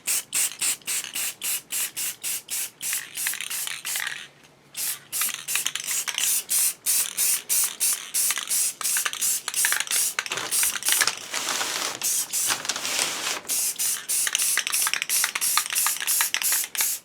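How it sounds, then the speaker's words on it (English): Rust-Oleum matte clear seal coat is sprayed from an aerosol can onto a replica starship model in many short, rapid hissing bursts, loud and close, with one brief pause partway through. "doing a seal coat with some matte clear. I just use my standard Rust-Oleum matte clear."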